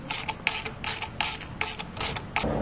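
Hose clamp on new hoses in a drift car's engine bay being cinched down with a ratcheting tool, giving repeated close, loud bursts of rapid clicking separated by short pauses.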